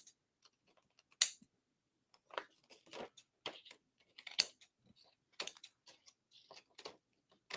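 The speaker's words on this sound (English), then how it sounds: "you're going to trim wherever it hangs off the edges" Scissors trim card stock along the edges while adding feathery floral accents to cards. Sparse, quiet, crisp snips and clicks come in irregular bursts with pauses between them.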